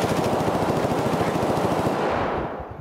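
Rapid automatic gunfire in the shooter game Escape from Tarkov, a loud sustained burst of closely spaced shots that cuts off near the end, with no talk over it.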